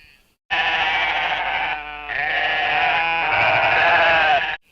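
Sheep bleat loudly and continuously in a barn, several animals calling over one another in long wavering cries with a short gap near the middle, close and noisy throughout.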